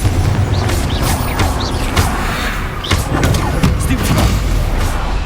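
Repeated booming spell blasts from Confringo in Hogwarts Legacy, a dense, loud stream of thuds and crackling impacts with sharp transient hits throughout, amid busy combat noise.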